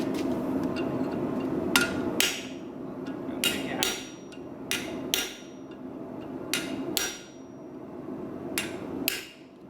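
Hammer blows strike a metal plate to start a split along its edge, sharp ringing impacts mostly in quick pairs spaced a second or two apart, close and fairly loud over a low steady background hum.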